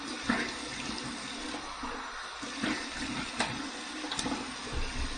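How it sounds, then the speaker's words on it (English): Cold tap water splashes and runs in a bathroom sink as a face is rinsed after a wet shave with a bronze razor, a continuous hissing wash with a few louder splashes close by. "Cold water rinse."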